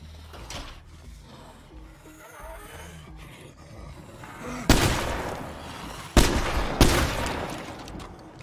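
Gunfire in the zombie survival video game State of Decay 2: quieter game ambience gives way to three loud, sharp shot bursts with ringing tails, spaced over a few seconds, with faint background sound between them.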